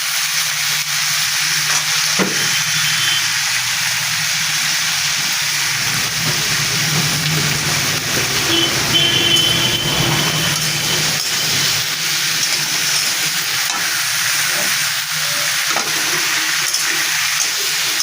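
Bottle gourd curry frying in a covered pan, giving a steady, continuous sizzle with faint stirring and clinks. It sounds close and even throughout, and no one speaks.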